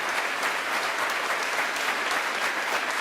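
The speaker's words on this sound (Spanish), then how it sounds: "Se merecen un fuerte aplauso." Dense, steady applause from a church congregation, a continuous wash of many hands clapping at even loudness throughout, with no speech over it.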